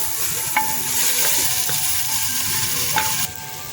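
Tomatoes are stirred and fried in a clay pot over a village cooking fire, giving a steady close sizzle with a few sharp scraping stirs spaced through it and no talk.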